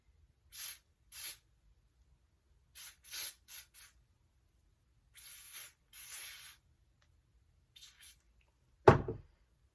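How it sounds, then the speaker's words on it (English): Several short hissing bursts from an aerosol can of Wonderlace Bond lace adhesive spray, some single and some in quick pairs, separated by silence, ending with a sharp thump. "I'm going to spray this Wonderlace Bond"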